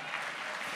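A church congregation applauds during a worship service, a brief wash of dense, even clapping that is fairly faint and steady.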